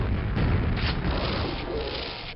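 An ogre grenade explodes in the Quake video game as one loud, sustained low boom with a rolling rumble that holds steady across the whole moment and fades slightly at the end, with no voices.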